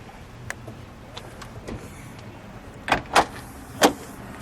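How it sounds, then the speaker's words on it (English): The engine compartment lid of a 1987 Lotus Turbo Esprit being shut: a few soft handling clicks, then three sharp close thumps as the lid is lowered and latched, in an otherwise quiet space. "We'll shut the engine compartment lid."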